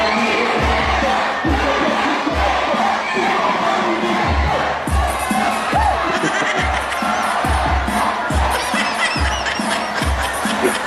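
A large crowd at a Philippine election rally cheers and shouts together, with a loud continuous roar broken by rhythmic chant-like bursts and thumping beats, close and dense throughout.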